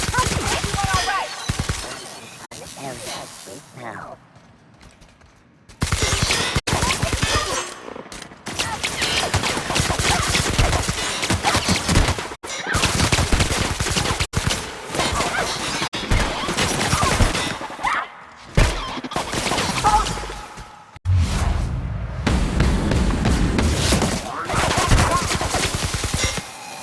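Rapid volleys of gunfire fill a shootout in the sci-fi video game The Outer Worlds, loud and dense bursts overlapping almost continuously, with a brief lull early on and voices calling out between shots.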